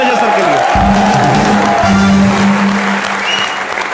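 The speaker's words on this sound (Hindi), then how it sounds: "एक बार जोरदार तालियां" Loud audience applause at a motivational talk, a thick wash of clapping with a few voices and cheers mixed in throughout.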